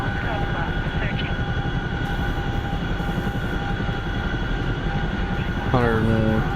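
A fixed-wing aircraft engine at throttle while climbing, a steady loud drone with a constant tonal whine throughout, and a voice briefly heard near the end.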